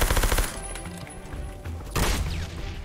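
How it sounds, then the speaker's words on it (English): Shotgun fire in an online shooter game, a loud burst of sharp blasts at the start and another heavy shot near the end, with fainter game noise and clatter between; no one talks. "That dude had a shotgun."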